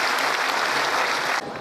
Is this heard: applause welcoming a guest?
yes